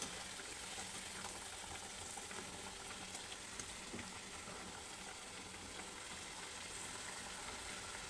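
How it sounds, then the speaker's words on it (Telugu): Homemade crispy tea snacks (karelu) fry in oil on a stove kept at medium heat, a steady, even sizzle with faint bubbling, continuous and close. "మెల్లగా స్టవ్ మాత్రం మీడియం మీదనే పెట్టుకొని వేయించుకోవాలన్నట్టు."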